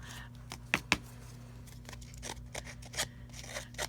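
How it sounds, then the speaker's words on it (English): Paper being cut with scissors during a craft session, a few crisp snips standing out near the start followed by lighter, scattered cutting and rustling, close and fairly quiet against a low steady hum. "And yes, I am being careful with my scissors."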